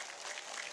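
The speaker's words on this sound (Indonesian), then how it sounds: "Tepuk tangan untuk Pak Bupati." Brief, fairly faint burst of audience clapping for the regent at an Islamic religious gathering, heard as a continuous wash of hand claps lasting under a second.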